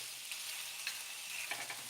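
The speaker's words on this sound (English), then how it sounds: "Got a nice little sizzle going on these onions." Onions sizzle steadily in a hot cast iron skillet, a continuous bright hiss with a few faint pops and clicks, no talking.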